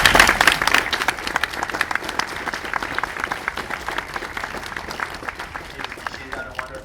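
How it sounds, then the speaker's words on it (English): Audience applause at a conference opening session, dense clapping that bursts loudly at first and then gradually thins and fades, with faint voices talking underneath near the end. "And Catherine Morrison deserves a round of applause."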